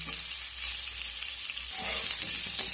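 A steady, close hiss of potatoes frying in hot oil, bright and crackling throughout, with a few soft stirring sounds toward the end.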